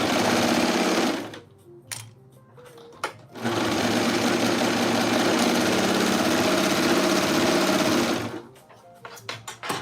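A domestic sewing machine stitches fabric in loud, rapid mechanical bursts, running about a second, stopping briefly, then running steadily for several seconds before a few short stuttering starts at the end.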